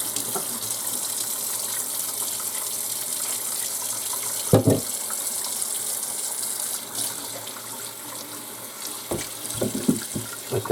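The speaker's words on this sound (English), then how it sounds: "Let that nice cool water just run all over it." Cool tap water runs steadily over a freshly cleaned smallmouth bass in a sink, a continuous close splashing gush with a few brief louder knocks.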